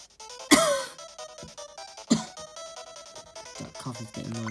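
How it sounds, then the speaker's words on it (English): Two sharp, harsh coughs a little over a second apart break through a background of cartoonish video game voices and music. "That cough is getting worse, I'm telling you."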